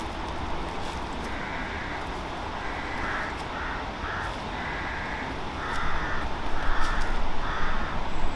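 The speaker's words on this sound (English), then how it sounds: "The crows tend to land in the dead branches of a tree about 50 metres away." Crows cawing from dead branches of a tree about 50 metres away in a farm field, a series of harsh repeated caws at moderate distance over steady outdoor background noise, which grows louder near the end.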